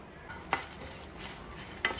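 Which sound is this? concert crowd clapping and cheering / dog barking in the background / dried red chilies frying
dried red chilies frying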